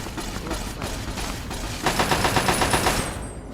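Sustained automatic gunfire from a Fallout game, a dense rapid stream of shots that thickens into a louder, faster burst halfway through, with no talk over it.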